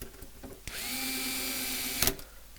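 A power screwdriver or drill whirs steadily for about a second and a half while screws are driven in during a cooling plate installation, ending with a sharp click, with faint handling noises around it.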